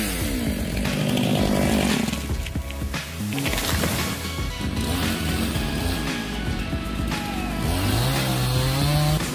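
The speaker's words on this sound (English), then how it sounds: "No piece of wood is strong enough to withstand the devastating power of this chainsaw." A powerful chainsaw rips through wood, loud and close, its motor rising and falling in pitch as it bogs into cuts and revs free again, with no voices.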